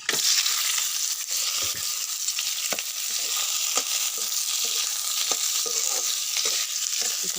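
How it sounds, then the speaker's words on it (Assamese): Pieces of meat fry in hot oil with a loud, continuous hiss and crackle, close up, broken by occasional scrapes and knocks of stirring, no talking. "মাংসটো কেইডোখৰ তেলত অকণমান ফ্ৰাই কৰি ল'ম"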